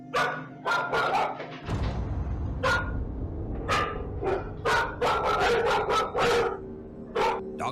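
Two dogs, Frank and Mac, bark sharply and repeatedly indoors in a living room, caught on a home security camera, with quick bursts of loud barking and a few yips.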